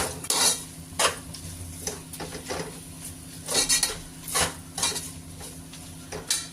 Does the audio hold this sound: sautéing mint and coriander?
yes